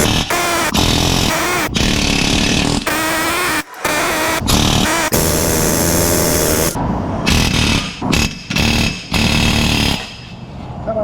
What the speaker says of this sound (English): Usually turning these a little bit with the air hammer helps get them out a lot easier